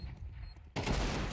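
A Desert Eagle pistol fires in CS:GO, a loud sudden burst of gunfire that cuts in abruptly after a quiet stretch and rings on through the rest of the moment.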